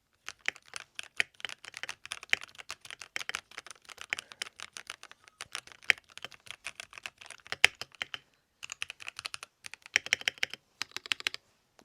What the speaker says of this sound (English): a nice keyboard like this